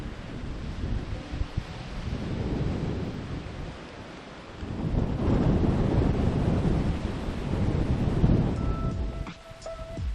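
Strong wind buffets the microphone on a seaside golf course at Fripp Island, surging in loud rumbling gusts that rise and fall, easing briefly before swelling again.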